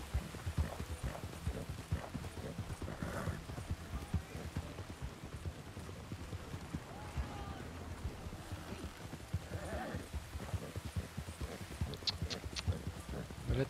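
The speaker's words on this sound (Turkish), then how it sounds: "benimki Arap atı" Arabian horse hooves clip-clop steadily through Red Dead Redemption 2, a rapid rhythmic patter at moderate level with light rain-like texture, a brief whinny, and occasional speech over the top.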